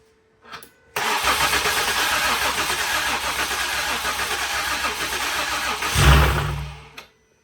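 A Ford 3.5 V6 cranks and catches in a car during a water pump repair, cranking steadily for several seconds before the engine fires with a louder low surge and then cuts off, close and loud with no talk.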